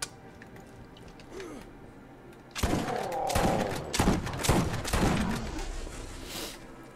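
Gunfire in the Borderlands video game, played as Roland: a fusillade of loud, close shots starts suddenly a few seconds in and keeps going in dense bursts to the end, with mechanical clacks in between.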